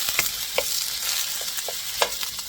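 Pork belly frying in its own fat in a non-stick pan, a steady dense sizzle with occasional soft pops and light stirring scrapes, close and even, no talking.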